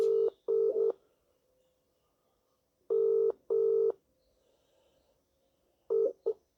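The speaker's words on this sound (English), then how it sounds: "It's ringing." A telephone ringback tone from a call to a Vodafone mobile repeats in steady double bursts with silent gaps between them, clear and electronic, with no talking.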